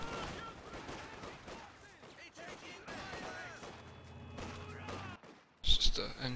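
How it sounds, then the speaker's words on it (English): Machine gun fire from an MG emplacement in a World War II strategy game match, with bursts of gunfire and battle noise under a commentator's talk, ending with a sharp louder burst. "It's just an MG set there."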